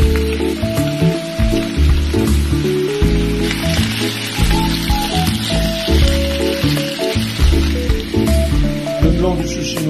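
Onion, carrots and turnips go into a pan of searing beef for pho, setting off a loud, steady sizzle and crackle that continues throughout.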